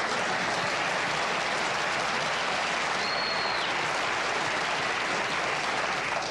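Studio audience applause on a television talk show, a steady dense roar of clapping filling the room throughout, loud and continuous with no talk over it.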